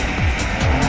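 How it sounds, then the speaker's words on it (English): A BMW M3 drifting in steady circles around cones at a driving event, its engine roaring loudly and continuously as the tires squeal and skid, the pitch rising and falling in waves. "Drifting is about car control and quick corrective action."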